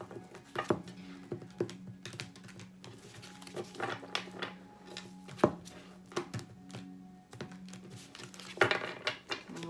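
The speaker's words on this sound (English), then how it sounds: "We're going to do a couple quick shuffles" Tarot cards are shuffled by hand in quick bursts, with crisp riffling snaps and soft slaps coming in uneven clusters close by over a low steady hum.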